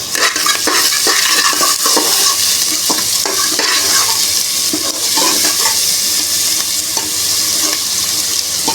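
Onions fry in an oiled pan for lentil and rice cooking, a constant loud sizzle with repeated scraping clicks of a spoon stirring through them, and no voices.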